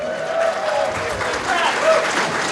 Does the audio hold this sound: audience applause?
yes